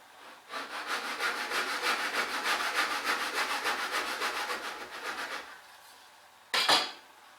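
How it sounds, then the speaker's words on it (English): A hand bench saw cuts through a piece of wood in steady, rhythmic back-and-forth strokes for about five seconds, then stops, followed by a single short clunk. "drop the saw in the left hand side, tilt it over and start sawing out towards the right hand side."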